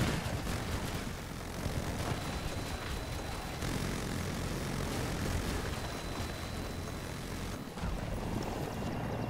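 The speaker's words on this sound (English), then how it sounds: "There's a chopper that's coming right on you from behind." A helicopter in Battlefield 2042 comes in from behind with a loud, sustained rotor-and-engine roar amid dense in-game noise, staying steady throughout with a brief dip near the end.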